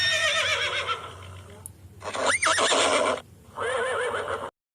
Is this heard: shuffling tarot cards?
no